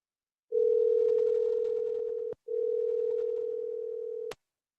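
A telephone ringback tone plays on a call as a steady electronic hum in two long back-to-back pulses, split by a brief click. It is clear and heard alone.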